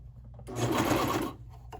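A cover stitch sewing machine stitching a dance leotard, running as one steady, close whirring burst of about a second that starts and stops abruptly.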